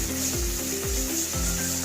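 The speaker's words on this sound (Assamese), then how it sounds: "মই ইয়াত আদা নহৰুৰ পেষ্টখিনি দি লৈছোঁ আৰু এইখিনিও মই পিঁয়াজখিনিৰ লগতে ভাজি থাকিম।" Ginger-garlic paste and onions frying in oil, a dense steady sizzle heard up close, with a few soft scraping stirs and no voices.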